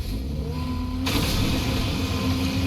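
Engine drone from the Fennec Z-RF car in a video game, with a sudden bright rushing surge about a second in as the boost kicks on and then roars on steadily, up close and without speech.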